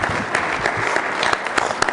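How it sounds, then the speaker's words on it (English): An audience at a Rotary Club program claps for a presenter, a dense, loud burst of many hands at once, sustained evenly from start to end. "let's give Greg a round of applause for his presentation"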